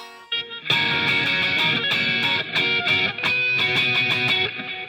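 An electric guitar switches rapidly between chords, a close, clean run of quick strums and picked notes, each change crisp and ringing in a steady rapid rhythm.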